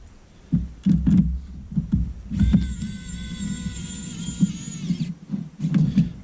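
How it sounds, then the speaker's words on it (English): A rechargeable 28-in-1 precision electric screwdriver motor whirs steadily at high pitch for about three seconds, close and fairly loud, framed by handling knocks and clatter before and after. "we'll start assembling it with the screwdriver here and see how well it does."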